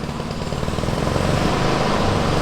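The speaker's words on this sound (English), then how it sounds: "Sounds like that lawnmower back there is having a little bit of an issue." A lawnmower engine running roughly in the background, a steady, loud motor drone with an uneven, sputtering pulse throughout.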